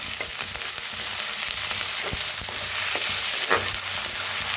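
Corn kernels roast in a pan with chili flakes and coriander leaves for a chilli corn dish, a constant crackling sizzle broken by repeated scraping and clinking strokes of stirring, with no one talking.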